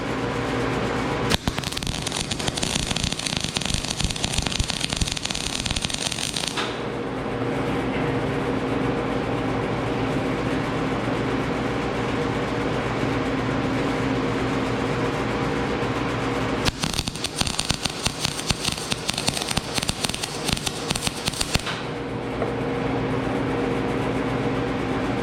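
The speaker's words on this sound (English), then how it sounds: "new gun, see what happens." A new MIG welding gun lays down a weld bead in two bursts of loud, steady crackling buzz, one lasting about five seconds and the other about four. Quieter workshop hum fills the gaps between them.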